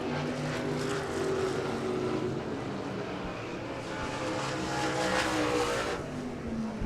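Sprint or race cars drifting high through turn two on the dirt oval at Devil's Bowl Speedway during the Spring Nationals, a continuous roaring engine drone from the pack, steady and somewhat distant, swelling slightly as cars pass.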